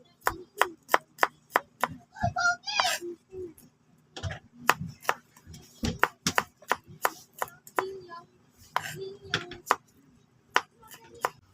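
Garlic for cabbage adobo is chopped on a cutting board with a knife, a run of crisp, evenly spaced close knocks that briefly pause and resume, with a voice speaking faintly in between.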